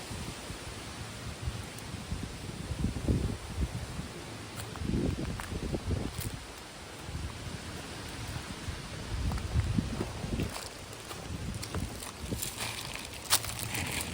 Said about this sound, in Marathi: फुल असा वारा सुटलेला तरी पाहू शकता